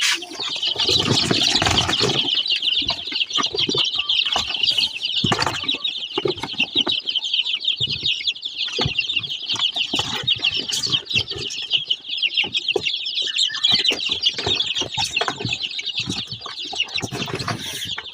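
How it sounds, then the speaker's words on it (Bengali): A flock of young chickens on a small Bengali homestead near quail keeps up a dense, continuous chorus of high peeping with scattered clucks and wing flutters, close and steady throughout. "এই যে আমার মুরগির বাচ্চাগুলো"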